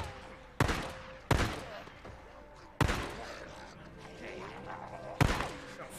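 Gunfire in the video game Days Gone comes as four loud, separate shots spaced a second or more apart, each with a sharp attack and a decaying tail over quieter game ambience.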